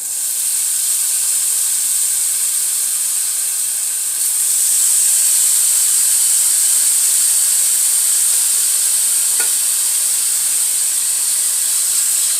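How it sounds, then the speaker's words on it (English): Tofu bacon frying in a frying pan greased with cooking spray, giving a steady, bright sizzling hiss that holds throughout and swells a little partway in, with no talk over it. "So I'm going to make another batch in the frying pan,"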